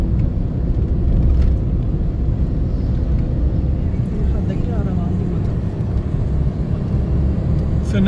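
A car cruising along a small road after leaving the motorway on the way from Attock to Khanpur Dam, with a steady low engine and road rumble filling the whole stretch and voices talking over it.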